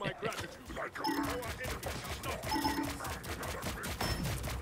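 Rapid gunfire bursts from Marvel Rivals gameplay, with dense repeated shots in quick volleys layered under game effects, fairly faint overall and continuous across the moment.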